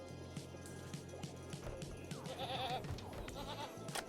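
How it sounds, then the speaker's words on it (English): Goat bleats in the Rimworld colony sim, a newborn kid and a doe among livestock, wavering calls repeating over a busy game soundscape with light watery background noise. "Here is baby goat 1 eating some apples."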